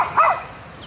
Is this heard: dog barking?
yes